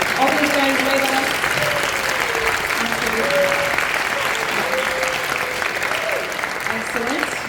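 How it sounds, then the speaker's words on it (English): A concert audience at a school spring concert applauds the percussionists with loud, sustained clapping, while a few voices call out faintly beneath the steady roar. "And we'll give you a round of applause."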